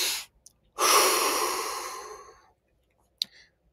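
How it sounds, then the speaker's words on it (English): Breathing exercise: two quick sniffs in through the nose, then a long, loud exhale out through the mouth that fades gradually, with a faint click at the end; close and with no talking. "Double inhale through the nose, exhale through the mouth."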